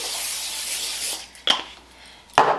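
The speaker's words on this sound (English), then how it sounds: "We're going to spray our baking sheet." Cooking spray hisses onto a baking sheet in a sustained spray lasting about a second, followed by two short sharp clatters.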